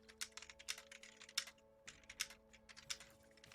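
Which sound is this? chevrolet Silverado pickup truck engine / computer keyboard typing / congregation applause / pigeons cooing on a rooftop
computer keyboard typing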